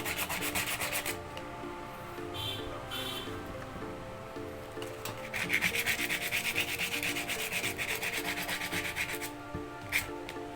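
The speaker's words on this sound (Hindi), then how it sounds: "अच्छी तरह से घिस देंगे और इसको साफ़ कर देंगे।" Sandpaper rubbing a collar motor part clean, a steady, close scratching that runs continuously with slight changes in pace and intensity.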